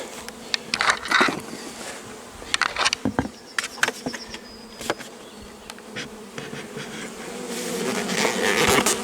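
Dense buzzing of many honeybees at a hive, a steady hum with individual wingbeats darting past, growing slightly louder toward the end.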